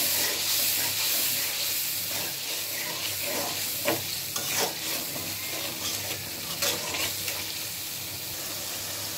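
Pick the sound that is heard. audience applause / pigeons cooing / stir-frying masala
stir-frying masala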